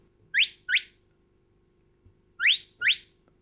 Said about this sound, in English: the one to come on, I just give two little short whistles